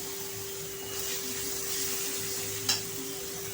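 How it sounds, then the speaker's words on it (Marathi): Onion paste frying in a pan for a Marathi bhindi masala, giving a soft, low sizzle under a constant electrical hum, with a brief spoon scrape near the end. "आता आपली कांद्याची छान अशी पेस्ट जी आहे ती फ्राय झालेली आहे."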